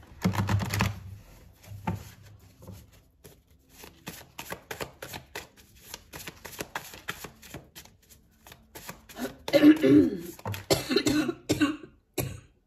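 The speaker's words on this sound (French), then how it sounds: "vous allez m'entendre un petit peu tousser" A few scattered coughs ring out close by amid shuffling and clicking sounds, with a louder burst of coughing near the end.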